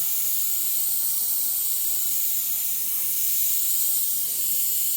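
A continuous, even hiss of an airbrush spraying paint onto a model muscle car holds steady for five seconds, close and unbroken, with no voices.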